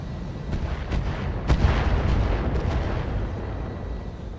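Turrets fire in a clan battle of a mech combat video game, a dense run of booming, artillery-like shots over a steady rumbling background.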